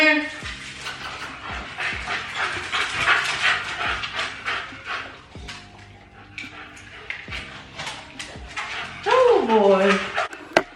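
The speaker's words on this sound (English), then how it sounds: "She found another dog to play with." Dogs play together outdoors, panting, yipping and whimpering with occasional barks in a busy, close mix, while a person speaks briefly over them.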